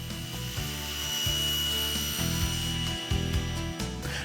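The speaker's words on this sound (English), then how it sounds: "It's just a matter of holding it in place against the fence and moving it through the blade to make an accurate cut." Saw blade whines through small pieces of wood molding guided by miter fences, cutting in a run of short repeated passes with a steady mechanical hum, close and fairly loud, no talking.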